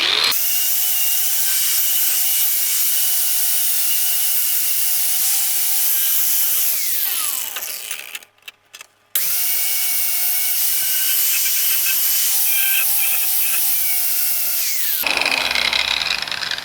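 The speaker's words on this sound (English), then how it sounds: "So I'm just going to use the grinder now to clean some of this up" An angle grinder whines steadily on forged steel, cleaning up a hammered holdfast, briefly cutting out for a moment before spinning back up and running again, loud and close.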